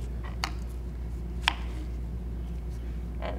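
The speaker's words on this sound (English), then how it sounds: "I'm going to carefully cut the greens off of my strawberry" A knife cuts the green tops off strawberries on a board, giving a few sparse, sharp chopping taps over a low steady hum.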